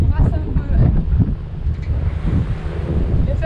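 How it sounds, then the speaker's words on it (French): Strong wind buffets the microphone on a boat on choppy Lake Nicaragua, a continuous low rushing roar mixed with waves, with a voice talking faintly underneath. "Alors il y a du vent et ça brasse un peu."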